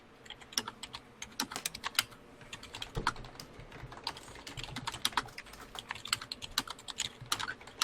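Rapid typing on a computer keyboard, close and quiet, with irregular bursts of sharp key clicks running continuously.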